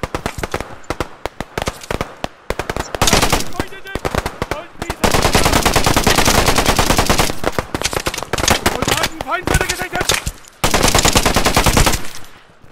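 Loud, dense automatic gunfire from a WWII shooter video game rattles in long sustained bursts broken by brief pauses, with single shots and cracks mixed in.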